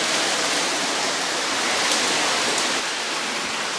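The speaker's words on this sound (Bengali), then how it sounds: "বৃষ্টির সিজন মানে প্রচুর পানি পড়তেছে" A loud, steady roar of heavy water pouring and splashing inside Alutila cave during the rainy season, continuous and close, with no voices.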